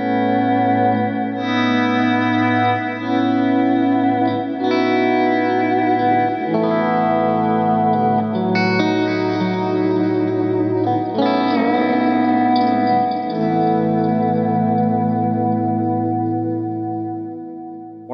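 A Line 6 Variax JTV electric guitar in an altered tuning, played through a Line 6 Pod HD Pro with chorus, delay and reverb, rings out in sustained chords and notes that decay slowly, loud and alone.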